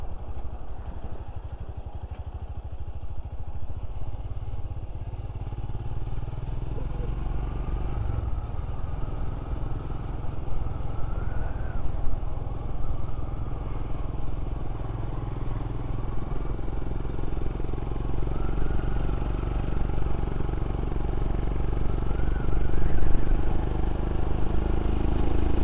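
Motorcycle ridden through the Elan Valley on a country-lanes tour, its engine a steady close drone with rushing wind noise that swells slightly near the end, no talk.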